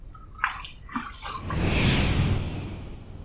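A Rolason LG90 safety razor rinsed under running water: a few light taps and clicks, then a loud, close rush of tap water flowing steadily to the end.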